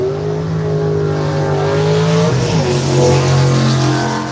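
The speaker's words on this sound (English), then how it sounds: "That was my car." A race car drives past, its engine note loud and near, rising and then dropping in pitch as it goes by, with a steady roar throughout.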